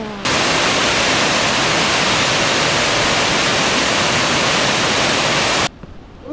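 Guryong waterfall at Sogeumgang on Odaesan mountain roars as a loud, steady broadband rush of falling water for most of the stretch, then cuts off abruptly near the end, leaving quieter ambience.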